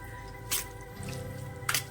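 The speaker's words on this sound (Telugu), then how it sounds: "ఈ లెమన్ వాటర్ అలా వేసేసుకోవాలి" Two short, wet splashes of lemon water dripping onto semiya, about a second apart, over a quiet room hum.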